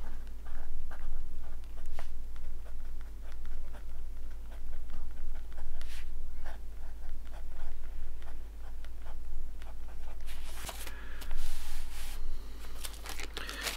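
A fountain pen scratches steadily across the pages of a Franklin system planner, with soft, continuous nib strokes over a constant low hum and a brief rustle of paper near the end.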